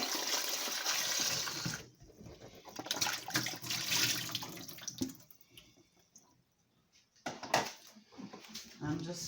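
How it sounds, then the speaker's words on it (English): Apples being washed under a running tap, water gushing and splashing in bursts with a short pause midway, while a person talks over it. "I'm just washing my apples."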